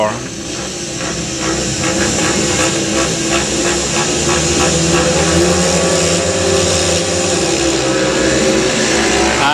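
Speedway motorcycles roar off the start gate at a 1999 Knock Out Cup quarter final, Monarchs against Newport, a loud sustained engine drone under a commentator talking throughout.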